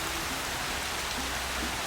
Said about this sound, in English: I can barely hear the music over the sound of the rain.